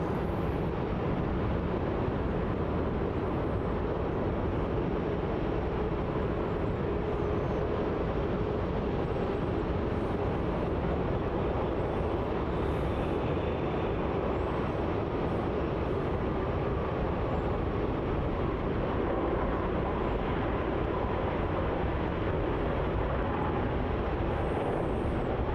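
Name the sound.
Malaysia Airlines jet from Kuala Lumpur landing at Melbourne Airport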